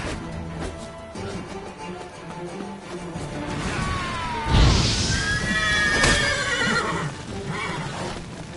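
Roach, a horse in The Witcher 3, lets out a loud, close whinny midway, with hoof clip-clops and a crashing impact around it against a quiet game background.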